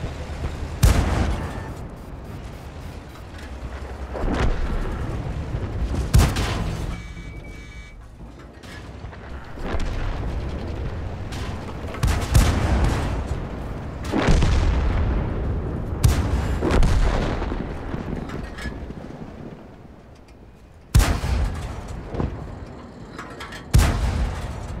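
Tank cannon shots boom repeatedly in World of Tanks gameplay, sharp loud blasts spaced several seconds apart over a rumbling bed of engine and mechanical noise, with no talk.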